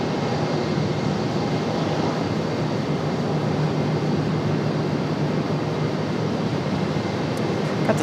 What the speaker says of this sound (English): Got the CRJ up for departure.